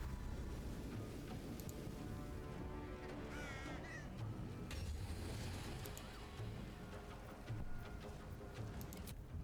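Crow-like cawing from a bird in the Baldur's Gate 3 video game, a few harsh calls rising over a dense, continuous game ambience of rumble and mechanical noise, with no talk.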